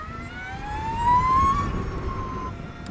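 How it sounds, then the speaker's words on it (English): Energica Eva Ribelle RS electric motorcycle in go mode, whose straight-cut gear drive from motor to sprocket gives a high, steady whine that climbs in pitch as the bike accelerates, then levels off over low road rumble. "The reason this bike makes this noise is because it has a straight cut tooth transmission from the motor to the sprocket."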